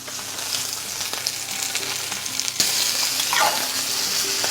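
Gascon pork browning in a pan over medium heat, butter added, sizzles steadily and close, rising louder partway through with a few scraping touches and no voices.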